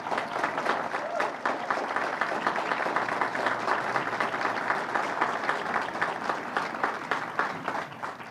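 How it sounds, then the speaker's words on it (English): An outdoor audience at a library renovation groundbreaking ceremony gives a round of applause, a steady, even patter of many hands clapping with no letup across the whole stretch. "I wonder if we can just give them both a round of applause."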